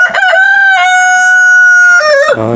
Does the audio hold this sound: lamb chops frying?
no